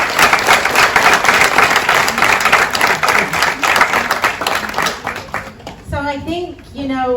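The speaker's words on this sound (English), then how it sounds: "you deserve a big round of applause" A crowd at a women's insurance network event in Gibraltar applauds loudly with dense, steady clapping that fades out, and a voice starts speaking as it dies down.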